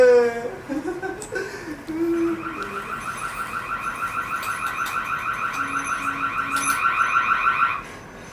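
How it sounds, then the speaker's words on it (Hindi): A burglar alarm goes off during a stage play at a Mumbai theatre. Its loud, steady electronic warble cycles rapidly for about six seconds after a few brief vocal sounds. "हाँ, यह है बर्गलर अलार्म।"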